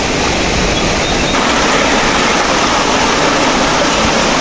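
River water rushes loudly and continuously in a rural province setting where fish such as tilapia are being caught. The steady, dense roar of flowing water fills the whole stretch without pause.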